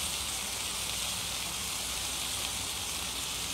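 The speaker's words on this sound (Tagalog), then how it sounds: "At habang ginigisa natin yan" Garlic sautéing in a hot pan, a steady broadband sizzle that holds evenly throughout without pause, close and fairly loud, with no voices over it.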